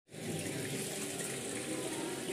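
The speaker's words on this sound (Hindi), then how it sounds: "यहाँ से गोमुख से पानी आता है" Water gushes steadily from a cow-mouth stone spout into a temple step-well tank, a continuous close splashing stream that starts abruptly and keeps an even level.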